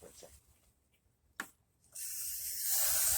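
A spray bottle hisses out polish during a polishing job, a short squirt followed by a longer, steady close spray after a quiet pause.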